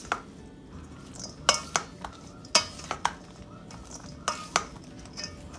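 Cabbage mixture for Salvadoran roast chicken sandwiches being stirred in a bowl, with a series of sharp utensil clinks and scrapes at irregular intervals over a quiet background, close by, no talking.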